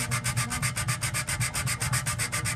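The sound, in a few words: sanding acrylic with wet-dry sandpaper wrapped on wood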